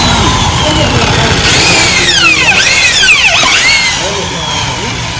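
A power drill runs loud and steady while tightening a nut on an RS200 stunt bike during a handlebar change, with rising and falling whine sweeps as it bites, amid workshop noise and nearby talk.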